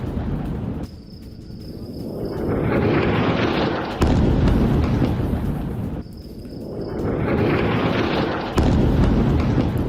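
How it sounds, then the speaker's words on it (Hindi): Heavy bombing in Gaza at night rumbles in deep, sustained booming blasts, each swelling into a long roaring wash before cutting off and repeating, loud and close with no voices. "देर रात गाजा में भीषण बमबारी की गई"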